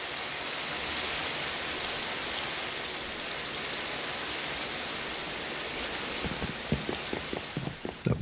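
Steady rain in a video game, a constant soft hiss filling the scene, with a few clicking game sounds near the end.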